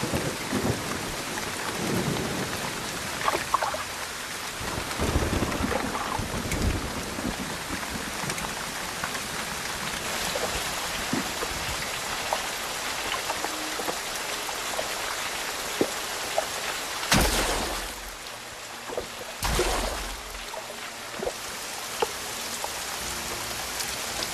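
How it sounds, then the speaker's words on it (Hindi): Torrential rain pours over open grassland in a steady loud roar, while thunder rumbles throughout and two heavy cracks break through near the end. "मूसलाधार बारिश ने सब कुछ भिगो दिया।"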